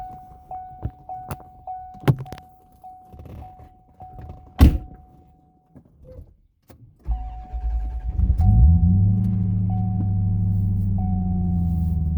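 A 1990 C4 Corvette ZR1 with its LT5 engine: door thunks and a repeating chime, then the engine fires up and settles into a loud, close, steady rumble as the car begins to move off.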